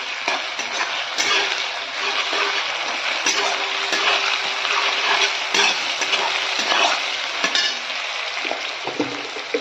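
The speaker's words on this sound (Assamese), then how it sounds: "পিঁয়াজখিনি অকণমান ভাজি লোৱাৰ পিছত মই আদা নহৰু পেষ্টখিনি দি দিলোঁ" Onions and ginger-garlic paste fry in hot oil with bay leaf for mutton curry, a steady close sizzle broken by repeated scrapes and clinks of a spoon stirring the pan.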